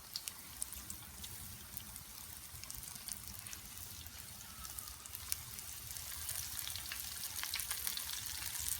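Wild turkey bites fry steadily in hot oil, a continuous crackling sizzle with scattered sharp pops, holding at an even level throughout with no voices.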